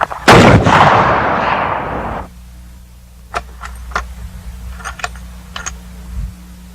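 A rifle fires into brush outdoors with one loud, sharp shot whose boom rolls off over about two seconds, followed by a quiet stretch broken by several faint clicks and taps.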